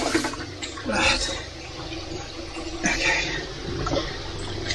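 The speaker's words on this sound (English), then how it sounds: "You can see all the water starting to flow." Water begins running through a drain being cleared of a blockage, a continuous rushing, gurgling flow close by with a few louder surges, while a voice speaks briefly over it.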